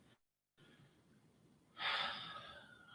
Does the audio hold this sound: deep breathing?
yes